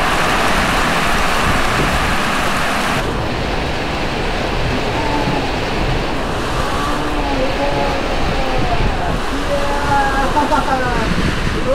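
Rain falling steadily on water during a kayak fishing trip, a dense, continuous hiss that stays loud throughout, with faint chirps or calls drifting in the background and no talk.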